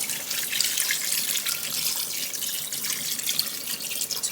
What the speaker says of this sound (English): we can go ahead and add some water into it and allow it to cook on medium-low heat